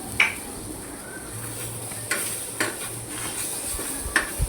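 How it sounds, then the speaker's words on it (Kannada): Tomatoes frying with a few drops of oil while being stirred for kara chutney: a steady loud sizzle broken by sharp clinks and scrapes of the stirring utensil against the pan. "ಟೊಮೊಟೊಗೂ 2 ಡ್ರಾಪ್ ಆಯಿಲ್ ಹಾಕಿ ಚೆನ್ನಾಗಿ ಹುರಿಬೇಕು"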